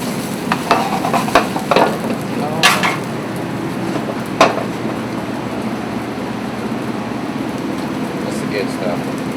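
Fish fries in a pan with white wine, giving a steady close sizzle with a few brief clinks of a utensil in the first seconds.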